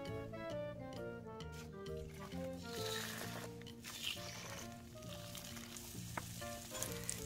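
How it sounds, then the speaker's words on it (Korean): Shrimp pancake dipped in egg batter frying in a lightly oiled pan over medium-low heat, a steady soft sizzle with faint crackles, close and quiet, with background music. "달구진 팬을 중약불로 맞추고 기름은 조금만 올려서 계란물에 적셔서"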